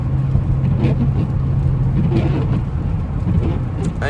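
A Chrysler 300 SRT8 cruises at night in the rain, its steady low engine hum and road rumble continuous and close, with a soft wash of rain and tire hiss layered on top.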